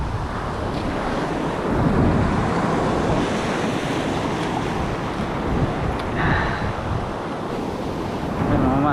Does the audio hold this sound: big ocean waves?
yes